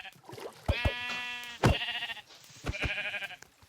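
A sheep bleats several times in a row, close and fairly loud, with a few short drawn-out cries separated by brief pauses.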